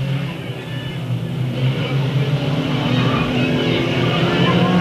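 Race cars roaring around the oval at Delta Speedway, a steady continuous engine drone from several cars running close together, loud and unbroken throughout with no pauses.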